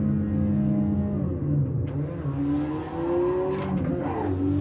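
Mazda MX-5 Cup race car engine in Assetto Corsa on Blyton Park, droning steadily with rising and falling pitch through gear changes, loud and close with no talk.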